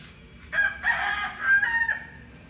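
A young stag rooster crowing outdoors, one full crow heard at moderate distance over a quiet background.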